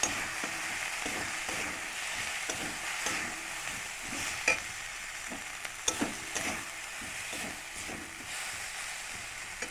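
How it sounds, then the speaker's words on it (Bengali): Potatoes and spices stir-fried in a pan for aloo dum, a steady sizzle broken by repeated scraping stirs and a few sharper clinks near the middle, with no voices. "একটু কষিয়ে নেব। নাড়াচাড়া করে নিয়েছি।"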